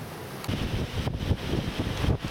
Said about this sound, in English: We've had a strong wind for quite a while now